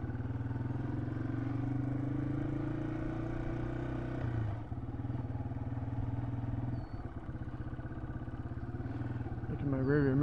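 A vehicle creeps along in first gear on a soft, mushy dirt road, its engine a steady, close, low drone that shifts slightly partway through and runs without pause.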